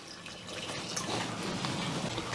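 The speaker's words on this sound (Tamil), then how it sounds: "கொஞ்சம் காய் வேகிறதுக்கு தண்ணி ஊற்றிக்கலாம்." Water is poured over cut vegetables such as beans and drumsticks in a pressure cooker pot for a mixed vegetable aviyal curry, a soft continuous splashing trickle heard close and fairly quiet, with no talking.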